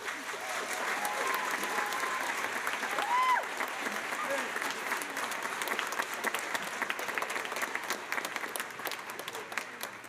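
Audience applause fills a school concert hall, a dense, sustained wash of clapping from a large crowd, with a few voices and whoops rising over it.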